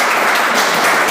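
A church congregation applauds during a Father's Day sermon, a brief, dense burst of clapping that stays loud and even throughout.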